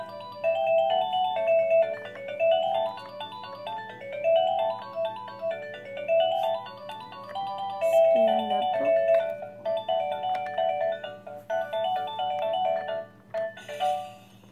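A phone ringtone plays a repeating electronic melody, loud and close, looping several times with a brief break midway, while someone talks softly over parts of it.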